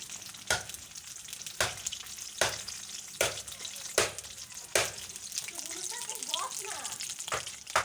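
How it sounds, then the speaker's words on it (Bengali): Katla fish pieces fry in oil with a close, continuous sizzle, broken by a regular series of sharp spattering pops or stirring clacks about every second. "এখন আমি পেটির পিসগুলো ভেজে নিই"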